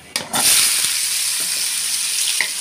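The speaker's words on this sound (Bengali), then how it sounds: "তেজপাতা, শুকনো লঙ্কা ফোড়ন দিলাম।" Bay leaves and dried red chilies hit hot oil for tempering, bursting into a loud, steady, close sizzle that starts abruptly and holds for a couple of seconds with faint crackles.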